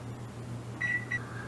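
An oven timer gives two short, faint electronic beeps over a steady kitchen hum, as the timer is switched on while something bakes.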